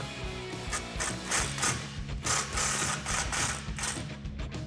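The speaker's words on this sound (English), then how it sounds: "grab a 15 socket and just get this clamp nice and snug" A ratchet with a 15mm socket clicks in quick repeated bursts as it snugs down a Borla exhaust clamp on a 2011-2014 Ford F150 EcoBoost, close and clear with no talking.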